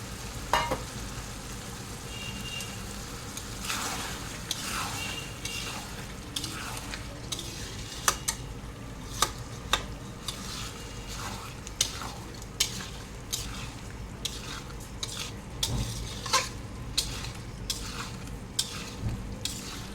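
Spice masala with soybean and dal stirred and fried in hot oil in a pan, a steady sizzle running throughout under frequent sharp scrapes and taps of a spoon against the pan, close and fairly loud, with no talking.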